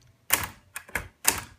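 Keys struck on a mint green Hermes typewriter, four sharp, loud mechanical clacks at uneven intervals, close and alone with no talking.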